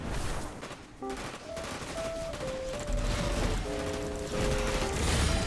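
Players trade rapid bursts of gunfire in Fortnite, the shots rattling close and continuous while game tones chime over the top of the fight.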